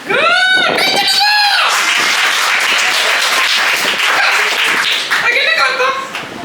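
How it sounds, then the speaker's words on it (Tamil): An audience at a puppet show bursts into loud, sustained hand clapping that fills several seconds. Raised voices ring out at the start and again near the end. "கைதட்டுங்க"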